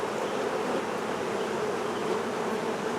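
Honey bees buzz steadily around open hive combs as the frames are pulled, a dense, continuous hum at moderate level with no talking.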